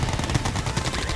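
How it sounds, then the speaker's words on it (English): Units in Red Alert 2: Yuri's Revenge fire continuously, a dense rattle of overlapping shots that runs the whole time at a steady, fairly loud level. "Fire at will."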